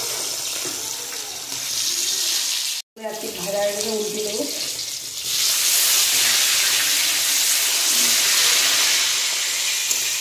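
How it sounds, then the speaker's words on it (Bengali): Pieces of rohu fish fry in hot oil in a village kitchen, giving a broad, steady hiss that grows louder in the second half, with a short stretch of talk near the start. "ফুলকপি রান্না করার জন্য কাটাপোনা মাছ খুব কড়া করে আমি ভেজে নেব।"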